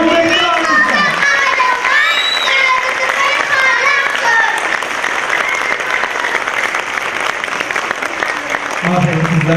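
An audience claps at a Quran course graduation ceremony, loud sustained applause from a crowd filling the hall throughout, with voices and cheering mixed in over the clapping.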